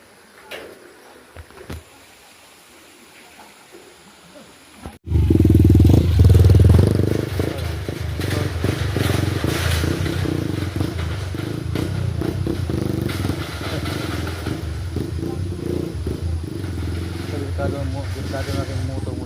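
A motorcycle rides across a hanging bridge with loose, raised steel grating, its engine droning steadily while the deck clatters and rattles beneath the wheels, loud and close throughout, with voices talking over it.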